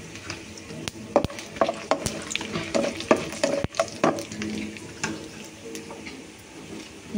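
Peanuts, urad dal, mustard seeds, cumin and dry red chillies fry in hot oil with a crackling sizzle, punctuated by sharp pops and spatters and the scrape of stirring, close and fairly loud, with no talking.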